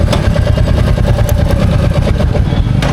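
A parked motorcycle idles close by in Kanyakumari, its engine chugging with a steady, fast, rumbling pulse that stays loud and even throughout.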